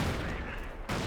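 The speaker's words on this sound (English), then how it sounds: "Lots of explosions sitting right there." Dense battlefield gunfire and explosions from the real-time strategy game Company of Heroes, a continuous loud rumble of shots and blasts throughout.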